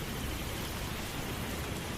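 Heavy rain pours steadily during a night storm in a village, a dense, even hiss with no pauses and no voices.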